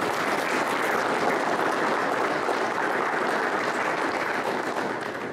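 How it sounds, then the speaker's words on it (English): Audience applause at an Oklahoma National Guard armory event, a thick, even roar of clapping from a sizable crowd that continues steadily for about five seconds and tapers slightly at the end. "So let's give her a round of applause"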